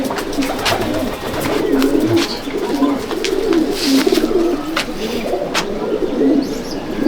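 Andhra pigeons, including a Star Kalanka male, coo in a loft, a low continuous burbling of several birds close by for several seconds, with faint chirps mixed in.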